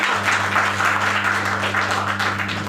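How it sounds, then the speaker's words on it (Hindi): An audience at a Hindi-language business gathering breaks into sustained applause, a dense wash of clapping that holds steady and eases slightly at the end, with a low electrical hum beneath. "बता दीजिए इन लोगों के लिए, सभी के लिए तालियां"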